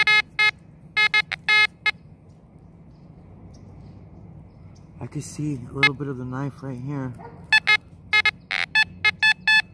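A Fisher F44 metal detector beeps in short repeated electronic tone bursts over a buried switchblade, clustered at the start and end of the clip, with someone talking in the middle.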